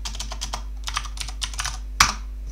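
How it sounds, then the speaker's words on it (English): A command is typed on a computer keyboard in quick bursts of close key clicks, with a louder keystroke near the end like an Enter press. "So what I'm going to do is I type sudo gem install Cocoapods."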